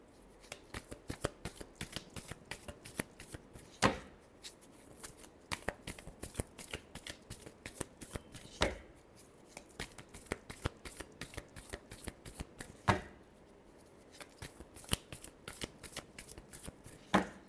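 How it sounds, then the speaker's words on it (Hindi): Tarot cards shuffled by hand in a steady run of crisp riffling flicks with a few louder slaps, close and alone with no talking. "last shuffle"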